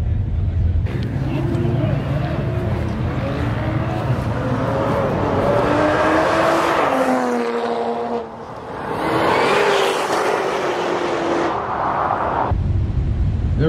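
At a no-prep street-style drag race, a Toyota Supra and a heavy Cadillac line up. Engines rumble loudly and rise in pitch, dip briefly, then roar again under a constant crowd-and-engine wash.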